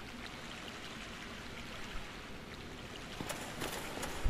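Steady broadband rush of flowing water in a Dark Souls game level, a continuous moderate stream sound with a few faint clicks near the end and no voices.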